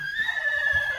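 A horse near Kyzyl-Suu gives one close, loud whinny, a single sustained tonal call lasting about a second with faint rustling underneath and no talk.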